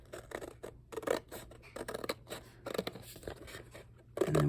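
Scissors snip and slide through paper while cutting ephemera holders, a close series of crisp, irregular cuts and scrapes heard alone at moderate level.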